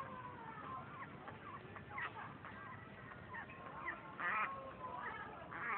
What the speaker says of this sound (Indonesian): Bebek dan ayam.